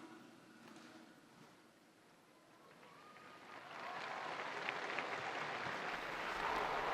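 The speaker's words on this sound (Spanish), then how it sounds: "Y el aplauso de los fieles congregados en la plaza de San Pedro acoge la bendición del Santo Padre" Faithful gathered in St. Peter's Square applaud a papal blessing, distant crowd clapping that starts soft and swells steadily louder into a broad, sustained wash of applause.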